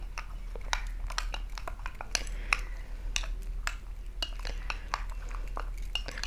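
A spoon stirring and scraping a flax seed and yogurt face mask paste in a small bowl, with irregular clinks and wet scrapes at close range over a low steady hum.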